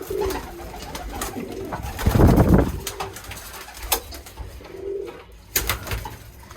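Birmingham Roller pigeons coo softly in a breeding loft, low murmuring calls repeating at a moderate distance, with a louder rustle or wing flutter midway and faint clicks and shuffles around them, no talk.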